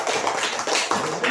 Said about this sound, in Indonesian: Tepuk tangan dulu kasih Seren